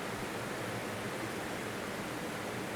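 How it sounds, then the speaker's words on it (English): A loud waterfall in the Skyrim video game rushes as a continuous, dense, steady wash of water noise with no other sounds. "That loud waterfall again."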